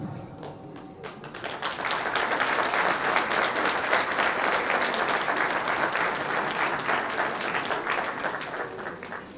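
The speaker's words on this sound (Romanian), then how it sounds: "bine ați făcut că i-ați aplaudat" Audience applause at a Romanian Orthodox parish carol concert in Imola, a dense, sustained wash of many hands clapping that swells after a quiet start and holds steady, fairly close, with no speech over it.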